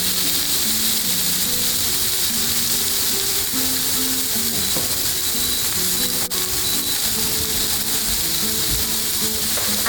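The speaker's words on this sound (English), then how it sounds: "You want to hear that sizzle." Loud, continuous sizzling and crackling of steaks frying in a hot pan, steady throughout with faint clinks and scraping underneath.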